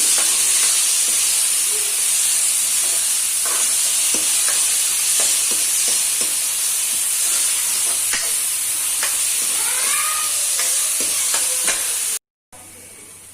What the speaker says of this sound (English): So we have to fry this onion till it gets golden brown, a dark brown.